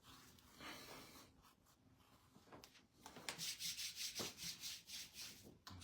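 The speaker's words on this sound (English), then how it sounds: "Rub the neck." Hands rubbing the neck give a soft, close, dry friction hiss that becomes a steady series of rhythmic strokes in the second half, quiet and alone with no talking.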